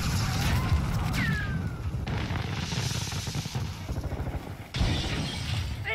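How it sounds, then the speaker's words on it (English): Thermite grenade bursting during online multiplayer play in Call of Duty: Modern Warfare II, heard as a loud crackling, sizzling burst over a dense, noisy battle mix of distant gunfire, with a sharp jump in loudness near the end. "Rolling thermite!"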